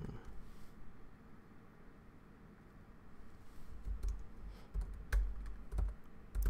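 Typing on a computer keyboard, quiet at first, then a run of close, distinct key clicks in an uneven rhythm toward the end, with no talk.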